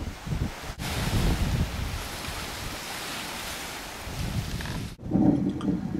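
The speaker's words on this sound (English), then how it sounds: "wind coming across, as you can see by those dark patches, performed very oddly and made strange sounds like thunder coming across" Strong wind gusts sweep across an Australian island bay, buffeting the microphone with a rough, fluctuating roar, dropping briefly twice before surging again, with a wash of surf beneath.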